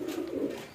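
Pigeons coo in a brief low, throaty murmur, close and moderately loud, a single soft warbling call from birds that have flown down to the ground.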